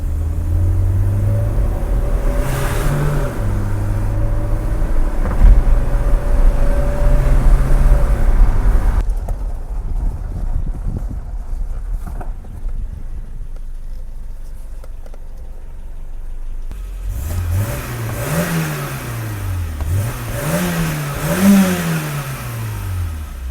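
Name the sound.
BMW E30 car engine accelerating and revving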